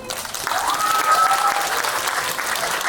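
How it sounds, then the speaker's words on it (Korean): A cinema audience at a stage greeting for the film Veteran 2 breaks into loud, sustained applause that swells quickly and holds before easing slightly. "우리 배우분들께 다시 한번 뜨거운 박수 한 번 부탁드릴게요"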